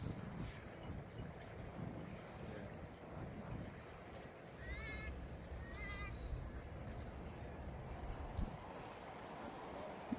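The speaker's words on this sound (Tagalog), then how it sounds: "Hangin." Wind blowing at a seaside beach on the north coast of Wangi-wangi, a steady rushing roar buffeting the microphone with low rumbles throughout, and faint chirps partway through.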